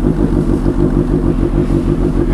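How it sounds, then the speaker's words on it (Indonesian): A Kawasaki H2 motorcycle fitted with a smart boost runs close by, its engine holding a loud, steady, throbbing idle with a rough mechanical clatter and no speech. "Kita dengarkan suara buasnya motor ini."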